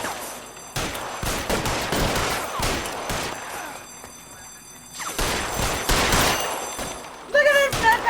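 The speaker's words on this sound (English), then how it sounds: "God, another shootout" Bursts of gunfire fill a shootout in the video game L.A. Noire, loud clustered volleys with quieter gaps between them and a few sharp pings near the end, with a voice talking underneath at times.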